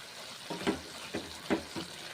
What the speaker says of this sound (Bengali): বাঁধাকপির তরকারি মুসুর ডাল দিয়ে রান্না করে নিচ্ছি। নেড়ে চেড়ে